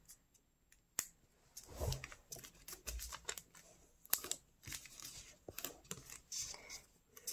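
Origami paper being creased and folded into a sailfish model, giving a run of soft crinkles, taps and crisp paper snaps at close range, with no talking.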